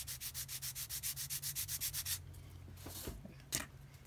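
A finishing sanding stick rubs quickly back and forth on a scratch-built model radiator part in a steady run of about sixteen strokes, then stops, followed by a few faint handling taps.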